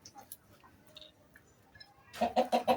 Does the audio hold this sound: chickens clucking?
yes